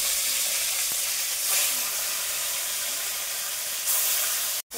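Fish frying in a pan, a constant loud sizzle and hiss with small swells, cut by a brief silence near the end.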